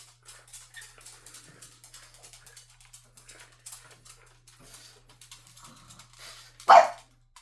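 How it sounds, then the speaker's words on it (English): A pet dog barks indoors, one sharp loud bark near the end after quiet rustling and faint whimpering sounds, with a low steady electrical hum underneath. "my dog loves to bark at random stuff."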